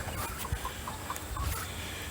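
Chickens in a small backyard coop cluck softly, a few short repeated calls close by over a steady rustling background, with no talking.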